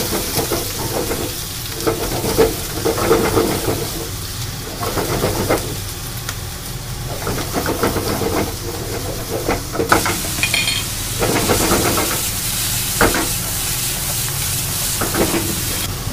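Onions and garlic frying in a pan, a steady loud sizzle with occasional stirring scrapes against the pan, close up and without talk.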